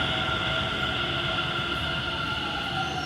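Metro train arrives at a station with a steady mechanical hum and tonal whine. Sustained tones hold over low rumbling for the full span, and no speech is heard.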